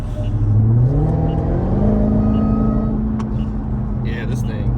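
Dodge Charger Hellcat Widebody accelerating hard, its supercharger whine rising steadily in pitch over a deep engine roar, loud and close from inside the car, with a voice talking briefly near the end.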